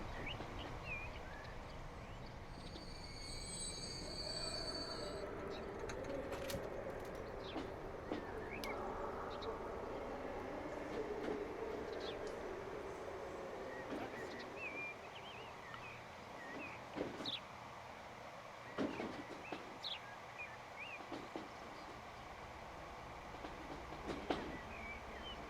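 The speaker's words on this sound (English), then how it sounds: "Now all we get is those trains coming through once every 8 months." Trains rolling past in the Transport Fever game, set on a Dutch map, carry a steady low rumble across the stretch with scattered clicks and clacks over it. Faint game ambience stays in the background.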